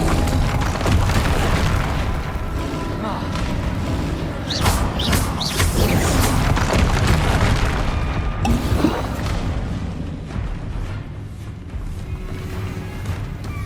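Confringo spell explosions in a Harry Potter video game, a long stretch of heavy booming blasts and crashing impacts, dense and loud, with sharper bursts in the middle before the rumble gradually eases.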